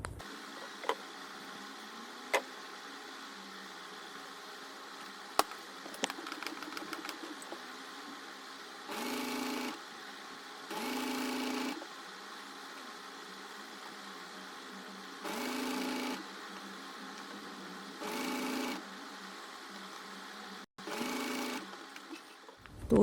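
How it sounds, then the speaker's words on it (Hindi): A sewing machine stitches a double-folded binding strip onto the neckline of a high-low flared top, running in five short, moderately quiet bursts separated by pauses, with a few small clicks and handling noises between them. "इसको सिलाई लगाएंगे यहाँ पर"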